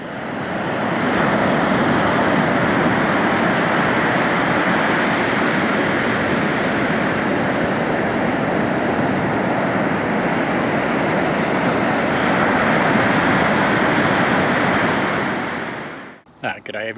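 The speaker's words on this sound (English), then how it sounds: "we just listened to the noise of the ocean as the waves rolled in" Ocean waves rolling onto the white sand beach at Wineglass Bay, Tasmania, a loud continuous surf roar heard up close at the water's edge, steady for most of the clip before cutting off near the end.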